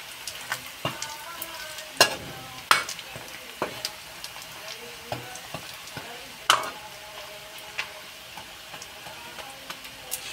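Spices are stirred into Kashmiri kanti frying in a pan, with a steady low sizzle under sharp scraping clicks of the spoon against the pan at irregular intervals, close and fairly quiet.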